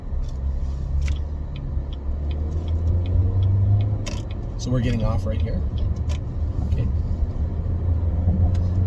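Heavy highway traffic rumbles with a steady low engine drone from inside a car, as a brief exchange of speech passes midway.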